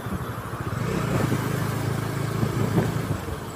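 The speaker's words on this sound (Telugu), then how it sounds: "స్మూత్గా ఉంది ఎగ్జాస్ట్ మాత్రం" Bajaj Dominar 400 BS6 motorcycle exhaust during a ride, a steady, smooth low engine drone holding close and even throughout with slight rises in pitch.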